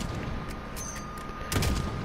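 Gunfire in the Call of Duty Modern Warfare campaign, with scattered sharp shots over a rumbling backdrop and a heavier boom near the end.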